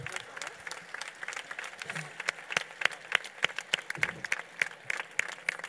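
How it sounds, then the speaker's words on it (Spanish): An audience at a municipal fiesta opening applauds the town band and choir, with a scattered, uneven patter of individual claps, some close and sharp, with faint voices beneath. "un gran aplauso para nuestra banda municipal y para el coro."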